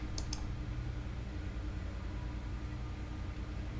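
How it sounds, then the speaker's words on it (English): A computer mouse clicks twice in quick succession while checking a box on a settings page, close and crisp, followed by a steady low hum of room or computer noise with no talking. "So click and check this box and save from the right top."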